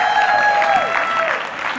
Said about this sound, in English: big round of applause for the couch crew